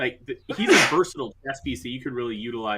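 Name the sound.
sneeze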